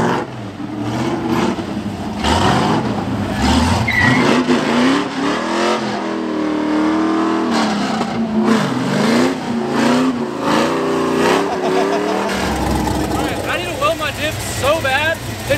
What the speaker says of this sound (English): Go slow. Just tap the throttle lightly.